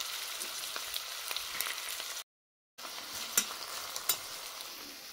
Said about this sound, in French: je vais découper 2 oignons en lamelles et je viens les faire sauter dans 2 cuillères à soupe d'huile